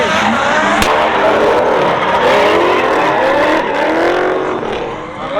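A V8-engined race car at high speed with tyres glowing red, a loud sustained engine roar with rising and falling pitch sweeps and some tyre squeal, close and steady throughout.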